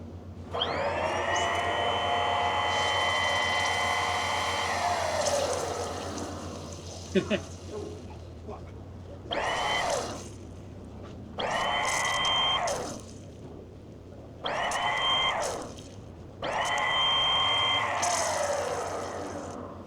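An engine's electric fuel priming pump whirs loudly while bleeding air from the fuel filter. It runs in one long stretch and then in four shorter bursts, with a high whine over a buzzing hum and brief pauses between.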